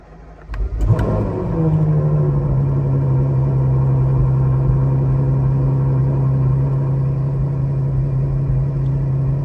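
A Ferrari with a custom titanium exhaust fires up from cold, a brief starter crank then a loud, steady high idle droning close by.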